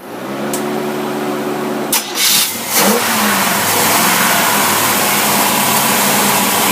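A car engine fitted with tri-power carburetors revs hard, a loud steady roar broken by a couple of quick blips and throttle changes before settling back into a sustained high drone.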